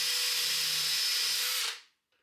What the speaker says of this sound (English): This is the drill they supply.